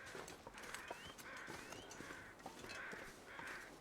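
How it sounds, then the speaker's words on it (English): Crows cawing in the survival video game The Long Dark, a handful of harsh calls repeating at intervals over a quiet wind-like background, fairly faint and distant. "Oh, I hear crows."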